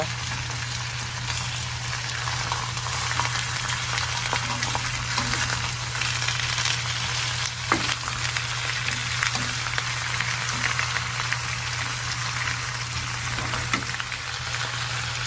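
Pork sautéing in a pan for Filipino humba makes a loud, dense, steady sizzle with constant fine crackle and occasional sharp pops, heard up close over a low steady hum and without speech.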